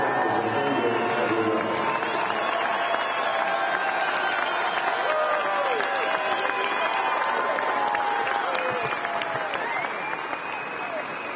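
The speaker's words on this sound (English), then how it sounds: "we're about to get a big round of applause" Ballpark crowd applauding and cheering ahead of a ceremonial first pitch, a steady broad wash of clapping and crowd noise lasting throughout, with faint voices mixed in.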